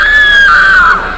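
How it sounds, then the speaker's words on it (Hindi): A woman screams in a horror story, a single loud, high, drawn-out scream that slides slightly downward before fading, heard alone. "ये सब देखकर प्रिया जोर से चिल्लाती है"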